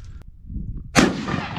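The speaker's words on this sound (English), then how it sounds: "Yeah, that's a rifle." A single loud M1 rifle shot rings out nearby, a sharp crack followed by a rolling decay, preceded by a faint metallic click and low outdoor rumble.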